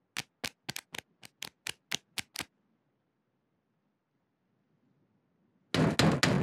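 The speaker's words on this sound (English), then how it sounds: "It's somebody at the door." About nine sharp, evenly spaced knocks on a door in the Twirlywoos children's show, then silence before a burst of louder noise.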